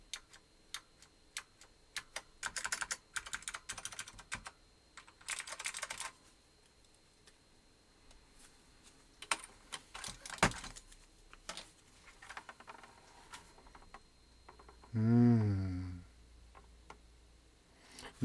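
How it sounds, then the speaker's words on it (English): Mechanical keyboard with Cherry MX Blue switches in an AT layout, typed on close by in crisp clicky bursts with pauses between runs. Near the end a brief louder rustle or vocal sound breaks in. "Nice MX Blues in a nice AT layout."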